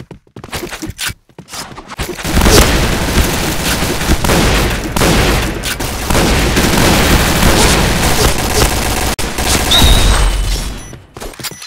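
In a competitive Point Blank match, a planted bomb goes off in a loud, sustained roar of blast and rumbling noise lasting several seconds, followed by a quieter tail.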